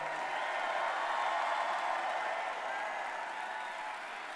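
A church congregation claps and shouts together at a Sunday night revival service, a dense, loud wash of hands and voices that holds steady and fades slightly at the end.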